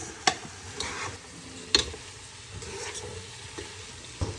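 A spoon stirs a sauce seasoned with salt and black pepper in a pan, with a few sharp scraping strokes over a soft, continuous sizzle. The sound is quiet and there is no talking.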